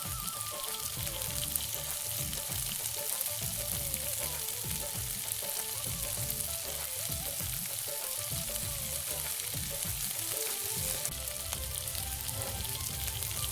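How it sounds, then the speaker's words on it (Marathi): Finely chopped tomato sautéing in a pan on low flame for paneer bhurji, a continuous soft sizzle with faint stirring scrapes, steady and fairly quiet, with no talking. "बारीक चिरलेला एक टमाटर ॲड करून छान परतून घेऊया"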